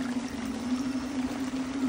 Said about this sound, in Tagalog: Tulad nito, tubig napasok.